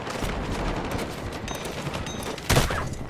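Distant, muffled automatic fire from a light machine gun in Battlefield 6 crackles steadily under battlefield noise, with one sharper, louder report near the end.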